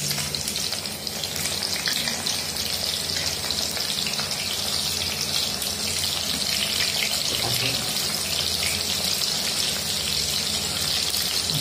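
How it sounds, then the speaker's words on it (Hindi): Onions frying in fully heated oil for a chicken dish, a loud, continuous close sizzle with faint stirring underneath, steady throughout with no talking. "तो अभी तेल पूरा गर्म हो चुका है, हम लोग अभी प्याज डाल देंगे।"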